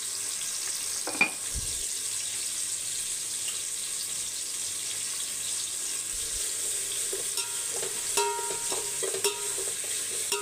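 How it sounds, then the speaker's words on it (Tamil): Onions sauté in a pan, giving a soft, steady hiss of frying with occasional faint stirring clicks and light knocks throughout. "வெங்காயம் வதங்கிட்டோம்."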